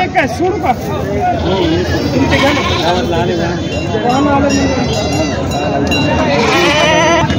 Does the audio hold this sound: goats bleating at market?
yes